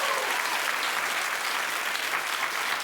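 A television talk-show studio audience claps continuously, dense and fairly loud, a steady wash of hands with no pauses.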